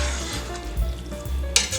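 Pasta tossed with mushroom cream sauce in a hot pan gives a brief, soft sizzle with wet stirring scrapes and one sharper clack of the utensil near the end.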